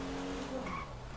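A car or bus rolls past outside with a brief, fairly faint whoosh of tires and engine that fades as it goes.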